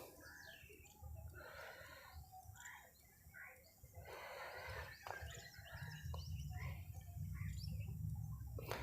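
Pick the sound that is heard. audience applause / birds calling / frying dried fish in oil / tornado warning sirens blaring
birds calling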